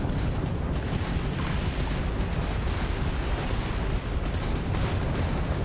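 Spaceship missile explosions in Starfield, a dense, continuous roar of booms and bursts filling the space, with no talk.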